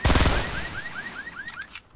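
Rapid bursts of gunfire in Fortnite, a dense fusillade of automatic shots at the start followed by scattered, fainter single shots and chirping ricochet-like tones, with no talking.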